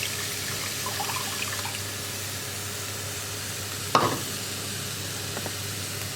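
Water from a mixer jar is poured into a sizzling onion curry. A steady frying hiss runs throughout, with a brief splashing burst midway as the water hits the hot pan.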